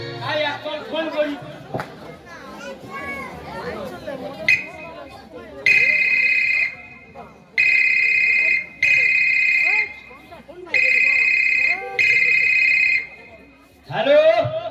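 A telephone ring tone repeats in evenly spaced electronic bursts while a call is placed. It comes after a stretch of chatter, loud and close with short gaps between rings.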